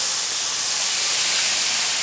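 Beef frying in a hot pan in a restaurant kitchen, a steady loud hiss and sizzle that holds evenly throughout with no talking.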